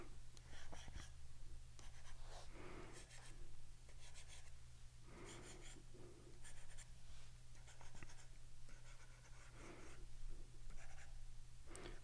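A pencil sketches a portrait on paper with close, scratchy strokes in a steady rhythm of repeated short passes and brief pauses.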